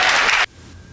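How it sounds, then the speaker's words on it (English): A small audience clapping at a pizza place, a brief loud patter of hands that cuts off abruptly after about half a second, leaving quiet room tone. "How many people were clapping?"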